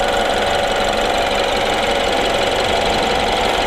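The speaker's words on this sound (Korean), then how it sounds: "엔진 소리 일정하네요." A BMW 528i F10 engine idles steadily in the engine bay, a continuous even hum with a faint rhythmic ticking that holds constant throughout without any talk.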